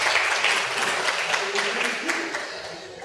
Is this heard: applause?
yes